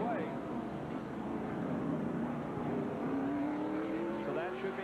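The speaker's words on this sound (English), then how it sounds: "The car's down off the jack and he's away." Ken Schrader's Kodiak Chevrolet NASCAR race car pulls away from a pit stop at the 1993 Save Mart Supermarkets 300k, its engine note rising and sweeping upward under steady crowd and track noise while a commentator talks.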